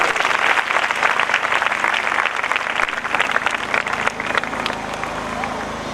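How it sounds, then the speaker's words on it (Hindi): Loud, sustained applause and cheering from a church congregation fills the whole stretch, dense and continuous, with crowd voices mixed into the clapping. "उसी के जलाल के लिए जोरदार ताली।"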